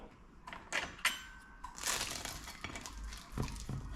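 Crisp, brittle crunching and crackling as a hot Greek filo pie is bitten and chewed up close, a few louder snaps among a steady crumbly rustle.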